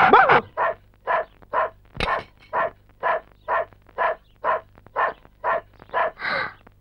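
A tied-up dog barks in a steady, evenly spaced rhythm, about a dozen loud, close barks in a row with short quiet gaps between them.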